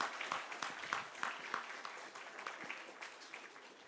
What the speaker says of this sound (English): Can we have a round of applause for the speaker for his excellence?